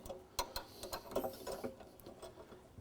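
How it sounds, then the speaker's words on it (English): A bar clamp is fitted onto parts during an install: faint, close ticking and ratcheting clicks in a quick, uneven series. "And now we're going to put the bar clamp on."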